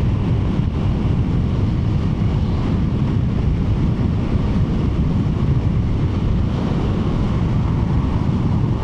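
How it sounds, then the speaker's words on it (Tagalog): Strong wind buffets the microphone of a Mio i125 scooter at speed on an open road on the Laguna Loop, a loud constant roar filling the whole clip with no voices. "Ang lakas ng hangin, salong-salo ko lahat"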